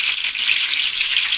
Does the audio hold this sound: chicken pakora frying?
yes